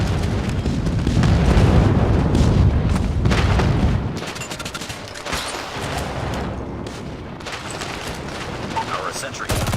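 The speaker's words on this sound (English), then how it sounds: "Friendly airstrike incoming." Heavy booms and a rumbling barrage from an airstrike crash in at close range in a Call of Duty match, followed by scattered sharp gunshots and game sounds at lower level.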